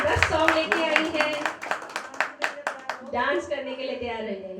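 Audience applause at a New Year music show, a run of sharp claps across the first three seconds under a voice talking over them, then the clapping fades out and only the talk continues.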